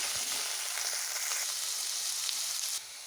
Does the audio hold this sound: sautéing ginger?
yes